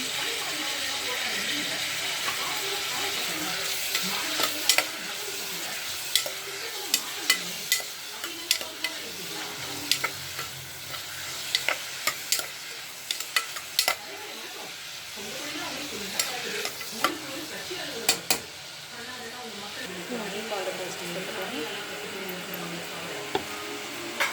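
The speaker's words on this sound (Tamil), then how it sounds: "நல்லா வதங்கட்டும் வெங்காயம் தக்காளி." Onions and tomatoes with curry leaves sauté in oil in a pressure cooker, giving a steady close sizzle and hiss with scattered sharp stirring clinks throughout.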